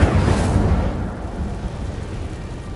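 An Incendio fire spell cast in the Hogwarts Legacy video game erupts in a loud, broad whooshing burst that quickly fades into a rumbling tail.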